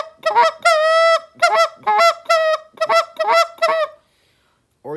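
A hunter blows a goose call in short, sharp honking notes imitating geese, about eight loud, close honks in an uneven rhythm, then a pause before another note begins.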